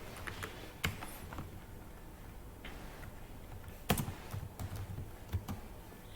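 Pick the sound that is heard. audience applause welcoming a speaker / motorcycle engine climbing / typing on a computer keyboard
typing on a computer keyboard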